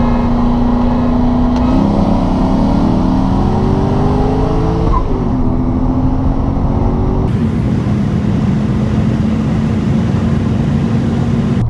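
Modified Ford Mustang with a 4.6-liter three-valve V8 racing, a loud sustained engine roar rising in pitch through the gears, with a shift and a second car's drone joining before a steady high-speed pull.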